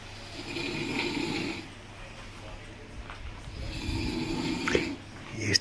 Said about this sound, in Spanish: ronca bastante, así que imagínate por la noche